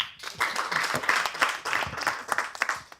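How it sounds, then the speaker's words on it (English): Applause from a summit audience of filmmakers, scattered claps with distinct individual hits forming a steady but light round that fades slightly at the end. "And another special applause for UNESCO in the room."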